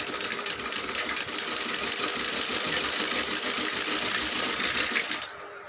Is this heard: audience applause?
no